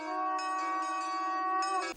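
Church bells ringing out across Mogán for the town's festival, a sustained bright peal with fresh strikes layered over a lingering hum, loud and steady without voices.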